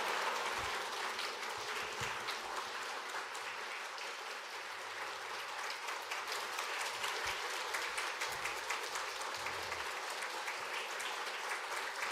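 A church congregation gives a big round of applause welcoming the pastor at an anniversary revival service, dense continuous clapping filling the hall for the whole stretch, steady and fairly loud, no voices over it.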